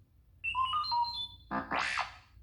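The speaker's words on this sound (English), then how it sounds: "You will know it is time to turn the page when you hear R2-D2 beep like this." R2-D2 chirps a quick run of warbling electronic beeps as a page-turn signal, then finishes with a rising-and-falling whistled squeal, clear and alone.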